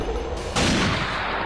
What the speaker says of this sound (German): Einfach den Schüssen hinterherlaufen. Da, wo es knallt, einfach.